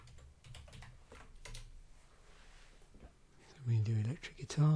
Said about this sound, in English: Just keep typing subjects in there.